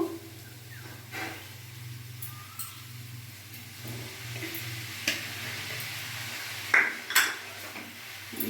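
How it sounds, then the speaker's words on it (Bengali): Hakka noodles dressed with soy sauce and vinegar are tossed in a pan, giving soft scraping and a few sharp utensil clinks over a low steady hum from the stove. "ভালো করে নাড়াচাড়া করে নেব।"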